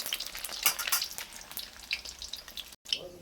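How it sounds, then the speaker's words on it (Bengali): Eggs sizzling and crackling in hot oil in a pan, a steady dense spatter with sharp pops throughout, close and fairly loud, with no talking. "এই যে আমি ডিমগুলো চিড়ে নিয়েছি, আমি ভেজে নিই"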